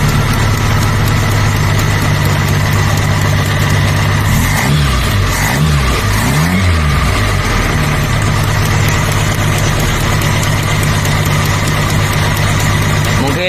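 A Suzuki Carry 1.0 with a flooded carburetor idles steadily after the throttle is turned down, a loud, close, continuous low engine drone with a brief wavering dip in the middle.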